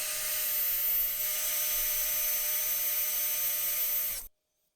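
A high-pitched, steady whine of a small rotary drill with a 1.5 mm bit drilling posts in a Matchbox Porsche 911 Turbo model runs continuously for about four seconds, then cuts off abruptly into silence.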